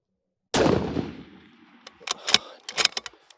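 A single sharp, loud rifle shot from an NRL Hunter rifle at an outdoor range cracks and rings out, followed by a few smaller clicks and rattles as the shooter handles the gun.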